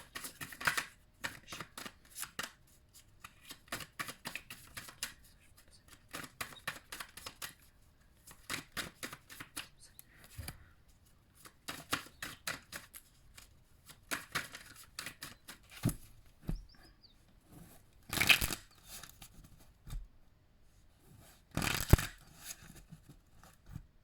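A deck of oracle cards is shuffled and drawn by hand, giving quiet rapid riffling bursts, pauses and a few sharper slaps close by, with no talking.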